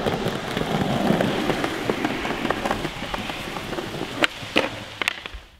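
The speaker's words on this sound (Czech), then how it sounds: "bohužel začal pršet" Rain falling outdoors, a steady dense patter with scattered sharper drops and a few louder taps near the end, continuous and fairly close with no voices.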